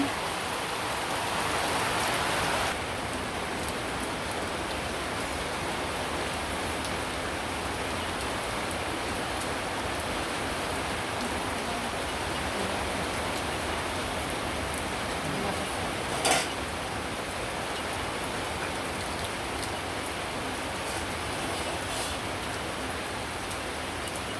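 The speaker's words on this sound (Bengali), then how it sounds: "বাইরে কি পরিমাণ বৃষ্টি নামছে এইরকম আজকে সারাদিনই চলছে" Heavy rain pours down outside during a monsoon day in a village, a dense, even roar of water that holds steady throughout, with one brief louder knock midway.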